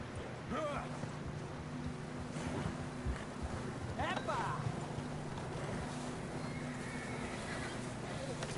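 Horses neigh and whinny amid steady wind and outdoor ambience in the video game Red Dead Redemption 2, with occasional hoof clatter and a voice speaking in the background.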